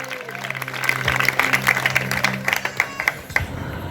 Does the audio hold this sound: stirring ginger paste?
no